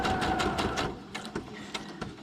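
A sewing machine stitches around a piece of paper, a quiet rapid mechanical chatter with regular needle beats that gradually fade and turn irregular.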